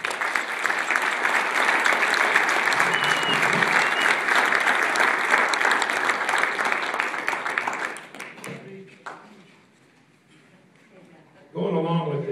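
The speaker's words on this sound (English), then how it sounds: "please give them a big round of applause" An audience at a Clark County Commission meeting honoring Southern Nevada Red Cross volunteers gives loud, steady applause for about eight seconds. The clapping then fades to near silence before a voice resumes.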